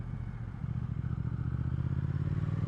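A Kawasaki ZRX motorcycle passing by, its engine a low, steady, pulsing rumble that swells slightly as it comes closer, with no talk over it.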